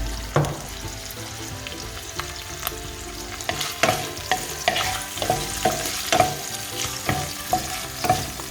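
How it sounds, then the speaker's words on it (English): Pancetta sprinkled with pepper frying slowly on low heat in a pan for carbonara, a steady close sizzle broken by regular scraping stirs of a utensil, heard alone without speech. "While our bacon is slowly cooking"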